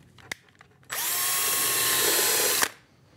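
A power drill fitted with a self-centering bit runs steadily for nearly two seconds, boring a pilot hole for drawer runners on a router table build, loud and close with a sharp start and stop.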